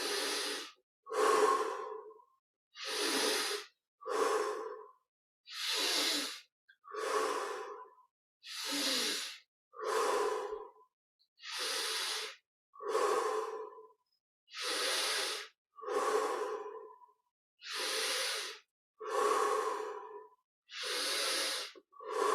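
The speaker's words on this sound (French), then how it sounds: "On inspire par le nez, on expire par la bouche." Slow paced breathing during a guided meditation, each inhale through the nose followed by an exhale through the mouth, about a dozen full breath cycles in a steady rhythm, close and clear with no talking.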